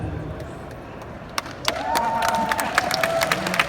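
Scattered, thin clapping from a handful of people in a busy Fan Expo Canada convention hall, sparse sharp claps coming in after a quiet start over a murmuring crowd and a faint steady tone.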